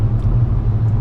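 Hyundai Inster electric car cruising at speed on a motorway, heard from inside as a steady low rumble of road and tyre noise, loud and unbroken.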